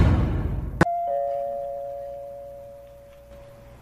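A doorbell at a house gate rings once with a sharp strike and then a long sustained tone that slowly fades, heard alone after a brief burst of noise.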